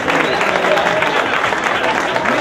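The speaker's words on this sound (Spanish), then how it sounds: "Muchas gracias, un fuerte aplauso" Audience applause fills the hall at a motorcycle racing awards ceremony for the BMW S1000RR cup in Almería, a dense steady clapping from a crowd throughout, with some voices mixed in.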